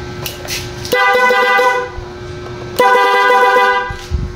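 Two loud motorcycle horn blasts, each held for about a second, sounding close by with a steady engine hum between them.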